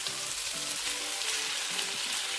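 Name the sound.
cooked vegetables added to sizzling stir-fried noodles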